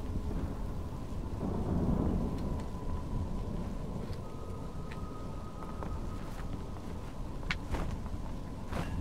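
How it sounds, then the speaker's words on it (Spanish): Thunderstorm in the video game The Legend of Zelda: Tears of the Kingdom, with steady rain and rolling thunder rumbling continuously, a few sharp drip-like ticks scattered on top, no voices. "Tiene tormenta."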